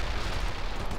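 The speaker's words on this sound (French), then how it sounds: "Ils nous tirent dessus." Gunfire in the World in Conflict video game forms a steady, dense battlefield roar. Distant rapid shots and heavy artillery-like rumbling blend into one continuous wash of noise with no clear pauses.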